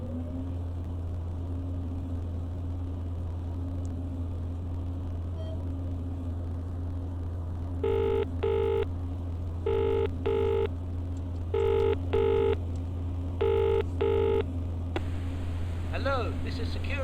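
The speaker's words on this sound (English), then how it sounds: "That's the phone." An elevator emergency phone rings in a repeated double-burst pattern, four pairs of rings over a steady low machine hum inside the car, with no talk during the rings.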